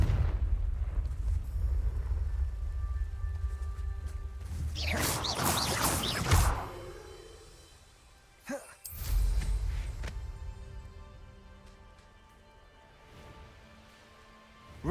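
Confringo spell blasts in the Hogwarts Legacy video game: a bright crackling burst with a deep boom in the middle, followed by a sharp short crack and a fading rumble over quiet ambient background.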